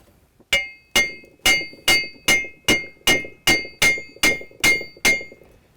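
Eleven sharp metallic hammer taps on a bronze casting ring out in an even, steady rhythm, each with a brief bright ring, close and clear.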